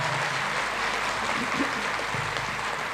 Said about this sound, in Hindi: आप लोग प्लीज मेरे कहने पर सभी के लिए ताली बजाइए